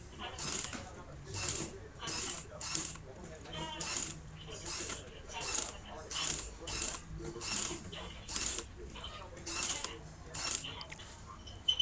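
A sewing machine stitches a fabric sleeve in rapid rhythmic bursts of mechanical clatter, each run of stitches separated by short pauses. The sound is quiet and close, and a voice talks faintly between the runs.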